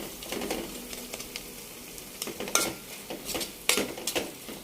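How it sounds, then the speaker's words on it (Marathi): Carrot halwa being stirred in a pan, producing soft scraping and clinking against the metal with a light sizzle underneath, in irregular strokes with a few sharper scrapes, close and moderately quiet. "अशा प्रकारे हे पुन्हा हलवून घेऊया।"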